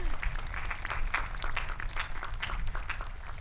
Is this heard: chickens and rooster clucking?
no